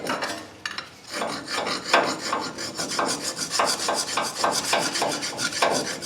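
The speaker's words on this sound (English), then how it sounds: "Just come in here with a file and clean them off. Clean the corrosion off of them." A hand file scrapes corrosion off a metal part on a 2011 Toyota Tacoma in repeated, rhythmic rasping strokes, about two per second, loud and close with no talk.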